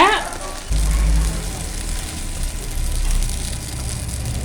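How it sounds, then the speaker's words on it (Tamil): Shallots, dried chillies, garlic and tomato sauté in a pan for a spicy kara chutney, giving a steady close sizzle and crackle with a low rumble underneath throughout. "எல்லாம் சேர்த்துட்டு நல்லா வதக்கி விட்டுக்கோங்க"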